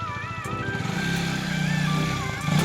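A KTM Duke 250 Gen 3 motorcycle engine revs steadily and loudly at close range with a rising, droning exhaust note, while someone talks over it throughout.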